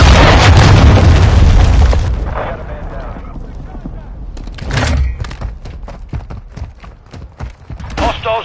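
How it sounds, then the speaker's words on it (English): A cruise missile strike in Call of Duty: Modern Warfare II, a loud deep explosion with a rumbling roar that fades over two seconds, then distant crackling pops, a smaller boom and scattered rapid gunfire under game radio voices. "Hostile cruise missile incoming."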